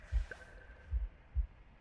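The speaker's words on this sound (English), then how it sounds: "The gurgling of water, a deafening heartbeat." A heavy heartbeat sound effect from the video game The Last Campfire thumps three times at low pitch, deep and muffled, with a faint gurgle of water in the background and no talking.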